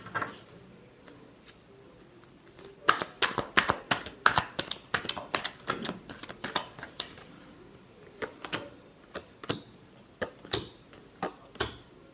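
Tarot cards are shuffled close by in sharp, irregular bursts of riffling and slapping, with quieter gaps between.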